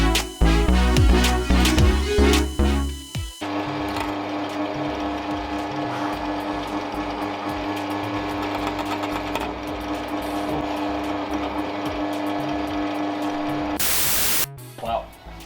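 A small drill with a 1 mm bit bores a turbo oil feed restrictor for a GT650R, a steady high-pitched motor whir running close and continuous after a few opening knocks, then a brief sharp noise burst near the end.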